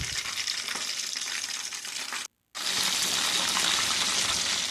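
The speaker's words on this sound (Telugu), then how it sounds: "ఇలా కలర్ చేంజ్ అయిన తర్వాత బాగా కాలే విధంగా అటు ఇటు తిప్పుకోవాలి" Crispy chicken leg pieces deep-fry in oil while being turned, producing a loud, dense, continuous sizzle broken by one brief silent gap midway.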